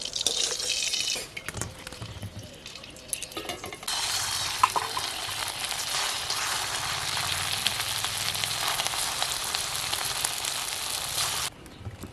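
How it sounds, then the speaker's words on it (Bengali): Semolina sweets fry in hot oil with a steady, fairly quiet hiss and bubbling sizzle, interrupted briefly near the start before continuing evenly. "মিষ্টিগুলো ভাজা হয়ে গেছে, আমি এখন তুলে নেবো।"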